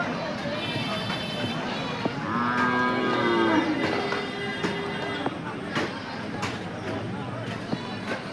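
Cows moo at a morning livestock market in Assam, with one long, drawn-out bellow and shorter calls over a busy background of people talking and general crowd noise.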